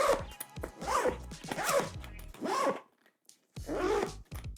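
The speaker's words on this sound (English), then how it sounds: "I look forward to zipping and unzipping" An Aer Simple Kit pouch zipper is pulled in several quick, close strokes, a short pause falling between the runs and one more zip coming at the end.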